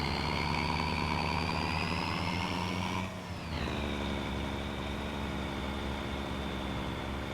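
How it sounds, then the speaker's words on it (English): A heavy truck's turbocharged engine in a truck driving video game, droning steadily with a whistling turbo tone that dips briefly and then settles back into an even hum. "Well, that turbo sounds good."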